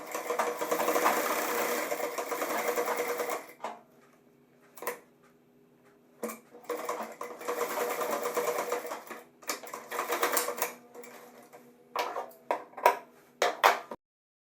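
Sewing machine stitching a zipper into a pair of pants, running in steady bursts with pauses and brief stops between seams, close and fairly loud.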